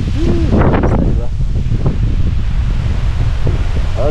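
Strong wind gusting outdoors at a bamboo grove, a steady loud rush with microphone buffeting throughout, while people talk in the foreground.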